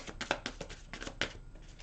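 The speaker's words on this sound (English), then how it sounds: "And we're going to continue shuffling." Tarot cards being shuffled by hand, a series of quick papery riffles and slaps in an uneven rhythm, close and fairly quiet.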